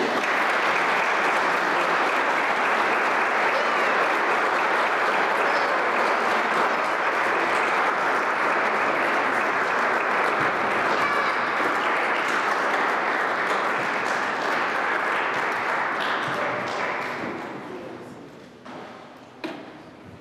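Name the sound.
church congregation applauding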